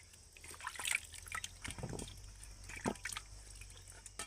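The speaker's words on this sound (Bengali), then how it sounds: "এবার আমি আমগুলোকে ভালো করে জল দিয়ে ধুয়ে নেব" Raw green mangoes are washed in water, giving faint, close splashes, drips and trickles in small irregular bursts over a quiet background.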